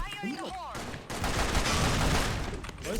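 Rapid gunfire in the online shooter game Sudden Attack during a ranked match, a loud, dense burst of shots that starts after a brief spoken exclamation and continues to the end.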